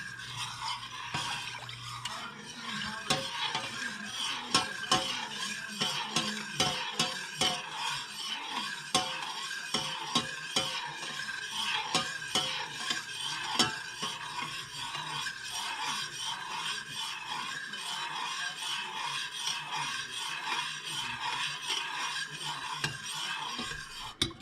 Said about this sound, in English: I know it can be a little tiring while you're standing here stirring your dessert